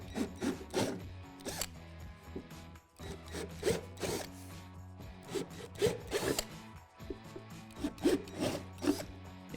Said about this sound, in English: Drill out the 4 holes on each part.